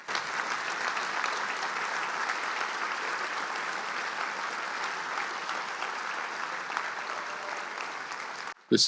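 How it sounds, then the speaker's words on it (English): A community foundation awards event audience gives honorees a sustained, loud round of applause, dense clapping from a large room lasting several seconds before cutting off abruptly. "give one final round of applause to all these amazing honorees today"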